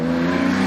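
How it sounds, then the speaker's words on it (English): An older Porsche 911 Carrera 3 litre race car at a hillclimb revs hard and close, a loud sustained engine note holding steady. "So, on the line, we have Garrett W. Evans in the Carrera 911 Carrera 3 liter."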